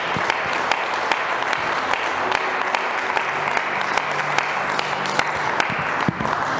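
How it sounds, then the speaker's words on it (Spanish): A worshipping congregation claps in praise during a Christmas-season service, a sustained, even wash of applause with crisp individual claps scattered throughout, lasting several seconds; a low sustained tone hums faintly beneath. "Denle el aplauso al Señor Yeshua"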